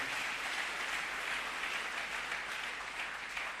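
A church congregation applauding during a service, a steady wash of clapping throughout, moderately distant and fairly soft, with no voices standing out.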